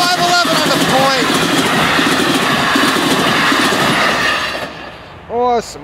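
A westbound NJ Transit Bombardier ALP-45DP locomotive train roars past loudly and close, with rumbling wheels and clatter, horn blasts near the start and end, and voices heard over it.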